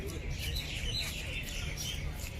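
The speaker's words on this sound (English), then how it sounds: "All you can see is just birds." Birds chirp in a park along the Doha Corniche, bright scattered tweets over a steady outdoor hum, with a person talking faintly underneath.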